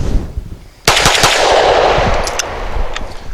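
Canik TP9 Elite pistol firing Federal HST 124 grain rounds outdoors in wet, muddy conditions, a quick burst of sharp, loud shots close by, followed by ringing echo and scattered fainter pops.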